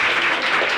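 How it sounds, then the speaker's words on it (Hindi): A brief, loud burst of dense audience clapping at a school prize distribution ceremony, steady and close. "मैं चाहूंगा कि एक बार हो उनके लिए जोरदार तालियां"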